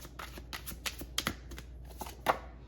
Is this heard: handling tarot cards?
yes